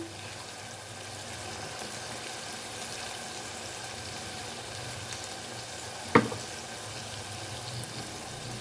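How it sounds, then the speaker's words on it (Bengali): Spice masala for palak paneer frying in a pan: a steady, moderate sizzle continues throughout, with a single brief clink of a utensil midway and no talking. "মশলাটাকে আমি দু মিনিটের মতো ভালো করে কষিয়ে নিয়েছি"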